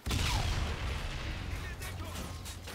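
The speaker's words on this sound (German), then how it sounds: "Granate." A grenade blast in the shooter game Call of Duty: Infinite Warfare bursts loud and close right at the start, then trails into a sustained low rumble with scattered battle noise behind it.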